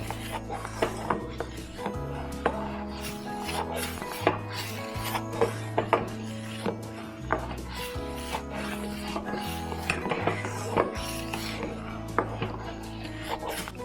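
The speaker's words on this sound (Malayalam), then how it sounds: "നമ്മൾ നിരന്തരമായിട്ട് ഇതുപോലെ ഇങ്ങനെ ഇളക്കി കൊടുത്തുകൊണ്ടേ ഇരിക്കണം" A large ladle stirs milk in a pot, giving a steady run of soft scrapes and light knocks against the metal under louder background music.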